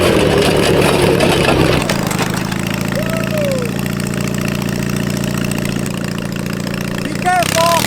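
A 450cc twin-cylinder engine on a push lawn mower runs at a steady mid-pitched idle, loud and close, with a brief rev and clatter near the end.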